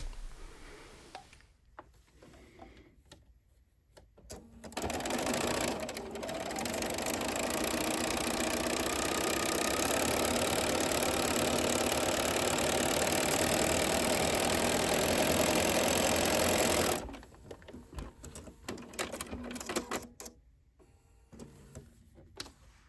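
Sewing machine running steadily for about twelve seconds while stitching a quilt block stem piece with a quarter-inch seam, a continuous mechanical whir that starts and stops cleanly, with quieter handling noises before and after.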